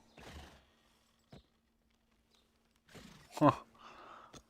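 A horse in the video game Black Desert Online gives a brief neigh among a few short, quiet thuds, with long near-silent gaps in between.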